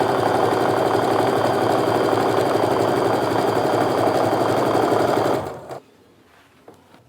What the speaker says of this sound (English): I'm going to sew it together end to end along the short sides